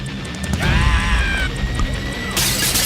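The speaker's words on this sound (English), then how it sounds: "No, they broke more bottles." Glass bottles smash and shatter in a cartoon comedy scene, a loud crash with bright scattering glass debris over a busy background.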